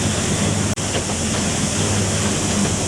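Train wheels on the Driving Creek Railway in Coromandel, New Zealand, rolling over rail joints and crisp plates, a steady loud rumbling clatter that runs continuously with no voices.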